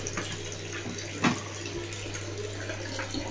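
Tap water runs steadily into a tub for a baby's bath, a close, even splashing stream with one brief louder splash partway through.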